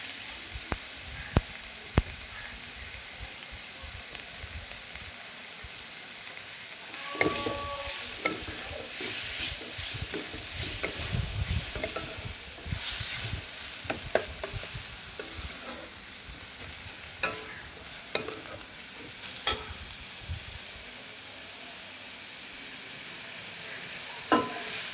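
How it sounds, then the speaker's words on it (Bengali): Chopped capsicum sizzles in hot oil for egg chili while a spatula stirs and scrapes the pan in irregular knocks, close and steady throughout, with no voices. "এবার এর মধ্যে ক্যাপসিকাম কুচিগুলো দিয়ে দেবো।"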